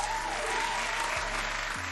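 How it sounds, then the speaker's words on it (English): Steady, dense applause from a crowd fills the whole stretch at an even level, with no single claps standing out. "Applause for you, my bro."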